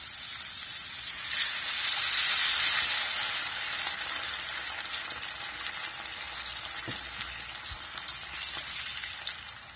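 Water poured into a hot pan of sizzling wheat rava upma with sautéed vegetables bursts into a loud hiss that peaks after a couple of seconds, then settles into a steady, quieter bubbling sizzle.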